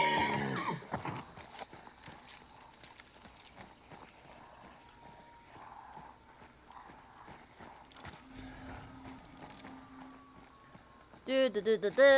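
Horse neighs and whinnies from a video game, mixed with hoofbeat clip-clops and insect chirps in the background, with a sharper, louder whinny burst near the end.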